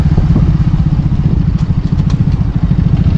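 A touring motorcycle idles at a petrol pump near the Assam border with a loud, close, steady putter and light mechanical clatter, with no speech over it.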